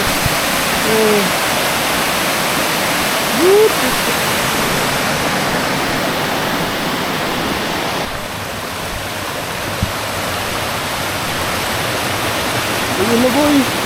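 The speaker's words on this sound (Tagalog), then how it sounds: "Ayun ang waterfall." Steady broadband rush of Oras Falls waterfall in Tabaco City, Philippines, continuous and fairly loud, with faint voices and a few brief chirps over the roar.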